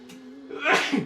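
A single sneeze from one person in an audiobook of a horror children's novel, with a short in-breath building into a sharp, breathy burst, quiet and close, with no talking over it.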